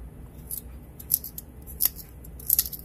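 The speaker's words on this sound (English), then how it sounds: "We're going to peel all these and we're going to cut all the little spots off" Handheld potato peeler scraping sweet potatoes, giving a few short, sharp rasping strokes at an irregular pace, close and fairly loud against a quiet background.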